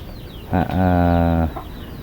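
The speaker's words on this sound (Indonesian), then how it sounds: "sangat luar biasa sekali perkembangan ini ayam-ayam dari Abah Oleh" Chicken call in a backyard flock, one drawn-out, strained vocalization lasting about a second, loud and close, with quiet surroundings before and after.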